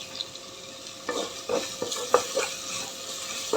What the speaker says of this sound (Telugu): ఇప్పుడు కొంచెం కరివేపాకు యాడ్ చేస్తాను ఇందులోకి